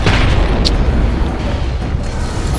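A mine grenade detonates in the video game FEAR 2 with a loud, dense boom and a rumbling roar that stays heavy for about three seconds.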